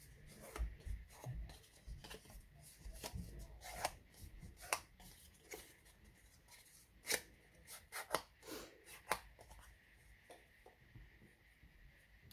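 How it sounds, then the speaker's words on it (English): Cardstock pieces being folded along score lines by hand for a desk tidy, giving a run of soft creasing, rubbing and sharp crackling taps at irregular intervals, close and fairly quiet, with no talking. "all I'm going to do with each of them is fold them on the score lines."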